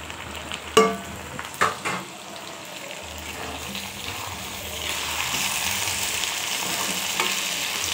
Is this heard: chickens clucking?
no